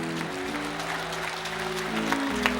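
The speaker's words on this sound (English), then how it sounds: "How about just a hand clap of praise for the goodness of God in your life?" A church congregation claps in praise, a steady wash of hands over a sustained organ or keyboard tone that holds beneath it throughout.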